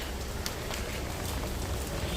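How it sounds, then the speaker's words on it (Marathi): Rain falls steadily outdoors, a constant dense hiss with faint scattered drop taps heard close and fairly quiet, with no voices. "तरी पाऊस पडतोय"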